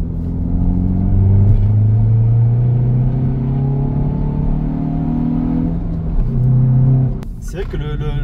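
A Hyundai i20 N's turbocharged engine pulls hard through the revs, a loud rising drone from inside the car, followed by a brief dip as the gear changes and the climb starts again.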